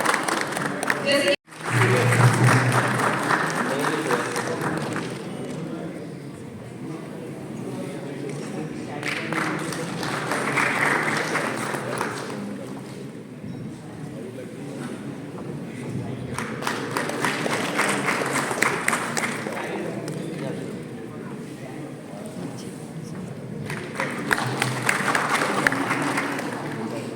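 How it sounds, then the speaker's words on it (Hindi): Applause from an audience at a 2023 startup conclave held at a Taj hotel, rising in broad waves of clapping several times over the clip, mixed with an announcer speaking over a hall sound system. "जो तालियों की आवाज है वो धीरे धीरे"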